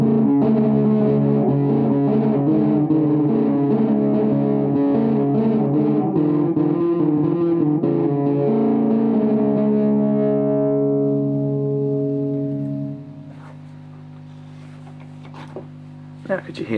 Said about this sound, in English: Same riff, going through the delay into the overdrive into the amp.